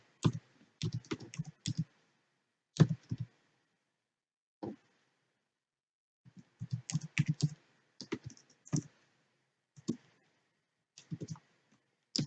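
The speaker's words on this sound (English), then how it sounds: "I will type in the number of the shade of blue that I want" Keys on a computer keyboard are tapped in short, quick bursts separated by pauses, producing close, clear clicks in a quiet room.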